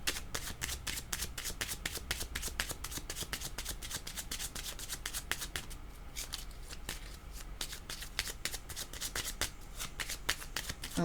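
Tarot cards are shuffled by hand in a long run of quick, crisp riffling flutters, soft and close, with a brief pause midway before the riffling resumes.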